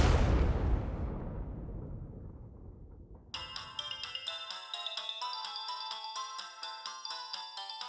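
A phone ringtone plays a bright, repeating electronic melody at steady volume, starting after a loud fading boom-like sound at the opening.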